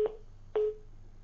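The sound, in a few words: telephone line tones during a failed call-in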